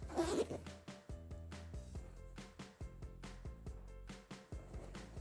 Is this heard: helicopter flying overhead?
no